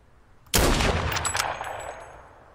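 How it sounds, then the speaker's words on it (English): A loud gunshot in the video game Krunker.io bursts out and rings with a long echoing decay, followed by faint metallic clinks as the reverberation fades. "There's a warning shot as well from me."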